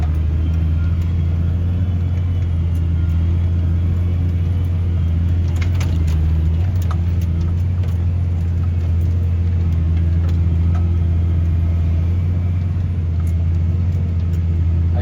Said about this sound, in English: We've got about a 325 horsepower tractor on it right now.